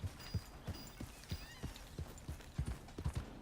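Horse hooves clip-clop in a steady walking rhythm in the western video game Red Dead Redemption, a dozen or so distinct close hoofbeats with no talk.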